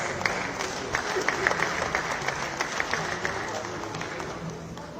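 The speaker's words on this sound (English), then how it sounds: "Let's give him a round of applause." Audience applause at a capital markets awards ceremony as a deputy minister comes to the stage, sustained crowd clapping with some murmur of voices underneath.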